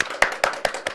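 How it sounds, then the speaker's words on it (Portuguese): Applause opens a Brazilian podcast episode as five sharp, evenly spaced claps in about one second, close and crisp, with no voices. "Uma salva de palmas!"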